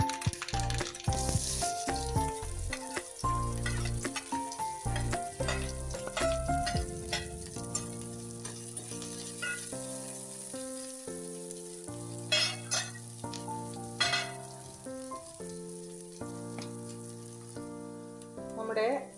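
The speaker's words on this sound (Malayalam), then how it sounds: "ഇനി ഇതിലേക്ക് നമുക്ക് ഈ അരിഞ്ഞു വെച്ചിരിക്കുന്ന സവാള, വെളുത്തുള്ളി, പച്ചമുളക് ഒന്ന് ചെറുതായിട്ട് വഴറ്റിയെടുക്കാം." Chopped onion, garlic and green chili sauté in a pan for a Kerala okra thoran, giving a steady, close sizzle and hiss that runs under louder background music.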